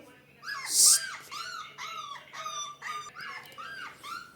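A dog gives a quick run of yelping barks and whines, close by and fairly loud, repeating in an uneven rhythm.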